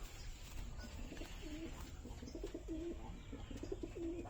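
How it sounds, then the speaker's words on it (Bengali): A Giribaz pigeon coos in a bird keeper's loft, making soft, repeated rolling coos at a fairly even pace. The calls are faint and sit over a low background hum. "এই যে এই পায়রাটা দেখো, এটাও গিরিবাজ লাইনের পায়রা।"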